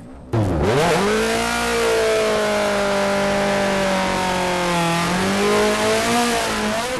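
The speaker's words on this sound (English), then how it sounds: "smoky burnouts are fun to watch" A street drag bike engine revs hard and holds a loud, steady high-pitched roar during a smoky burnout, with pitch sweeping up sharply at the start and wavering as the throttle is held, close and continuous.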